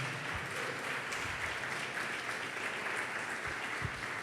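Church congregation at a morning family service applauds steadily, a soft, even wash of clapping heard from a distance and sustained throughout.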